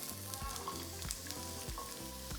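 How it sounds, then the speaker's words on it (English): Onion sizzling in hot oil in a small saucepan, a dense crackling hiss with a few stirring scrapes, steady and near but fairly quiet, no voices. "To a small saucepan, heat up a little bit of oil. Once it's nice and hot, I'm going to add our onion"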